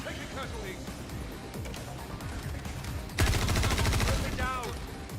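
Sniper fire in a shooting video game, a dense burst of rapid cracking shots that rises sharply midway, with a person talking over the earlier part.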